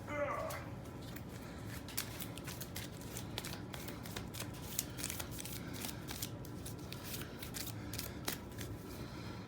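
Loot cards from the Shadows of Brimstone board game being drawn and handled, a steady stream of light papery slides and soft snaps close by over a low background hum, with faint talk underneath.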